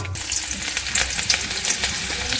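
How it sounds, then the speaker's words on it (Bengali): Raw onion dropped into hot oil in a wok after dried red chillies, a bright continuous crackling sizzle close up with small pops, steady throughout. "তেলের উপরে কাঁচা পেঁয়াজ দিয়ে দিয়েছি, পেঁয়াজটা ভেজে নেব।"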